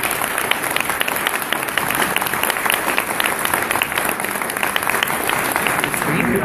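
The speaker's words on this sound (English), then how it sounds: "Let's have a round of applause for both teams." Loud, sustained audience applause for both teams at a Mars Society convention event, a dense continuous patter of many hands with no pauses.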